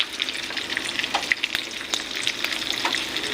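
Pork chop frying in hot oil gives a close, steady sizzle with crackling pops throughout and no voices.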